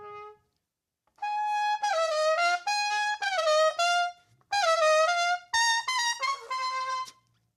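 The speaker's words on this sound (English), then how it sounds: "to be considered an elite trumpet player, you have to learn to scream, play very high notes." A trumpet in HBCU marching band style screams very high notes, loud bright blasts in quick bursts that bend and slide, broken by short pauses.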